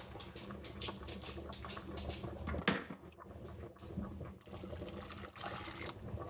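Quiet liquid sounds of pasta water being ladled and poured into sauce, with small splashes, trickles and a sharp clink of utensil against pot, close by.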